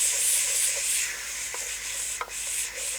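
Tomatoes are stirred into a frying biryani base in a cooking pot, giving a close hiss and sizzle with scraping rubs of the spoon and a couple of sharper clinks.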